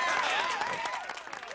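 A brief canned applause effect on a live radio call-in show, crowd clapping and cheering with a voice talking over it.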